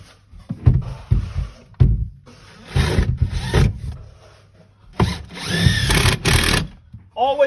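A power drill drives screws straight down into wood while a downstairs toilet is being fitted, heard as two sustained whirring bursts with shorter handling knocks and scrapes between them.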